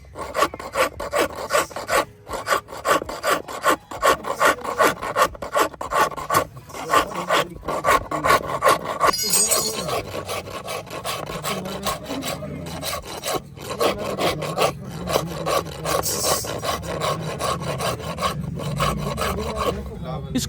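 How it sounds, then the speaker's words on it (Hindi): Steady rasping of a rasp file shaping a wooden handle for a hand sickle forged from rusted metal, loud and close with continuous back-and-forth strokes and short pauses, no talk. "फिर रास्प फाइल से शेप को मजीद रिफाइन किया जाता है ताकि ग्रिप हमवार और आरामदेह हो।"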